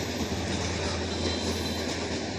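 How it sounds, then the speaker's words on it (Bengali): A train runs along a railway near Dhaka, giving a close, continuous, loud rumble of wheels on the track with no break. "ট্রেন একটা আসলো আর একটা ঢাকার ভিতরে"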